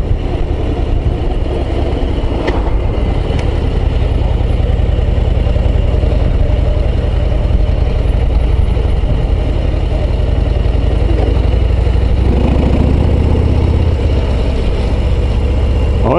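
Harley-Davidson Road Glide ST with the 117 engine, ridden in fourth gear at low revs, gives a loud continuous deep rumble with a steady throb, rising briefly near the end as it pulls.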